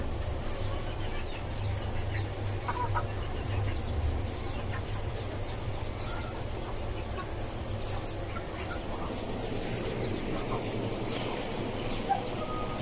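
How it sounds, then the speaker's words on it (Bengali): Soft, intermittent clucking from native chickens kept on a rooftop farm atop a five-storey house, a few short calls over a steady low background hum. "এই যে এখানে আরেকটা দেশি মুরগি আছে এটা ডিম পেড়েছে আজকে"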